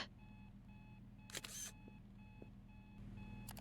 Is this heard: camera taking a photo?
yes